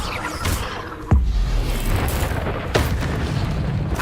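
Fire spell blasts in the video game Hogwarts Legacy, two sharp booming bursts with rumbling low thuds over a dense game soundscape, loud and close.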